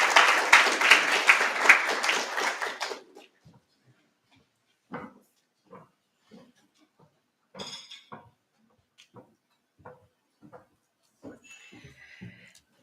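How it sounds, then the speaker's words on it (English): Audience applause at a public lecture for Africa Public Service Day opens loud and dense for about three seconds, then stops abruptly, followed by scattered faint clicks and knocks in a quiet hall. "give her a hand of applause"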